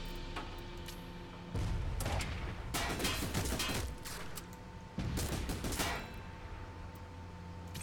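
Machine gun fire in the Frozen Synapse video game comes in two loud, dense bursts of rapid shots, each lasting about one to one and a half seconds, over a low steady background hum.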